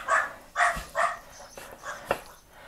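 Several dogs bark indoors at moderate distance, five or six sharp woofs in an uneven rhythm with brief whimpering yips between them, no voices over them.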